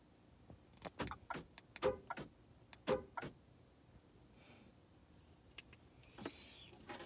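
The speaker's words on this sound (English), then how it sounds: "I was trying to lock the car" A car being locked, with a series of sharp clicks and clacks, a faint electronic beep-like tone and some soft rustling, close and fairly quiet, no talking.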